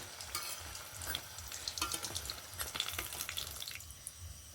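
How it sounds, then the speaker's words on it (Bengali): Soybean chunks frying in hot oil, a steady close sizzle with soft crackles and occasional stirring scrapes, no talking. "এখানে একইভাবে বাকিগুলো ভেজে নেব।"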